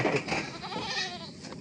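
A goat bleats in a short wavering call, fairly close and moderately loud, with faint background noise.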